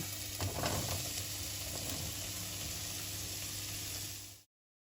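Onions frying in a pan, a steady close sizzle with a few stirring scrapes near the start, then cutting off abruptly; no one talks.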